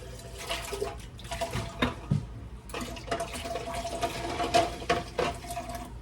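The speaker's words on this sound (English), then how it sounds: "I'm going to dump that water into this canner." Hot canning water is dumped from a jar canner into a second canner in a home kitchen, making a steady, fairly close splashing pour with several heavier gushes over about six seconds and no talking.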